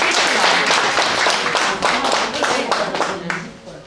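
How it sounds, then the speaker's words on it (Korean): Audience at a general meeting of a Korean association of long-term elderly care institutions, Gyeonggi West branch, applauds with loud, dense clapping that holds steady and then tapers off. "회장님 다시 한번 박수."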